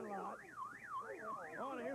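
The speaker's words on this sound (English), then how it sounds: "I love it when they send somebody into one of the vans and the alarm goes off" A van's car alarm blares during an outdoor wrestling brawl, a loud warbling electronic siren sweeping up and down repeatedly and steadily, with no talk over it.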